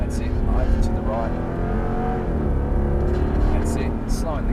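Mercedes-Benz C63 AMG engine pulling out of a corner on the Phillip Island circuit, a loud continuous drone with shifting pitch under an instructor's coaching voice.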